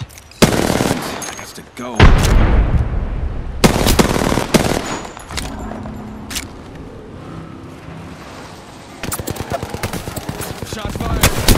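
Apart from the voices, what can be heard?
gunfire in the video game Apex Legends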